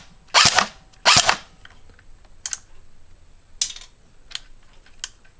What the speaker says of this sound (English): this is a firing test to show you guys the blowback function and just a general sound of